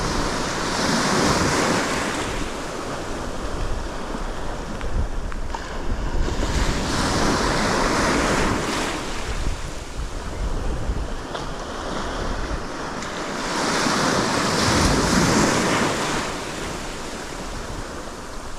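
Surf washes onto a beach in pouring rain, with loud swelling waves arriving in slow surges and wind buffeting the microphone.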